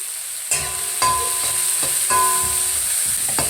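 Chopped green chillies sizzling in a hot pan, a loud steady fry punctuated every half second or so by sharp scrapes and clacks of a spoon stirring.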